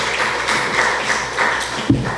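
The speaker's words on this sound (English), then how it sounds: "A round of applause." Students and audience at a school debate applaud a speaker, steady, fairly loud clapping filling the hall, ending with a thump.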